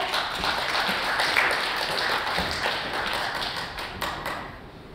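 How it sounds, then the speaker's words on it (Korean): Steady applause from an audience at a health talk show lecture, a dense patter of many hands clapping continuously, fading slightly toward the end. "여러분 큰 박수로 환영해 주시기 바랍니다"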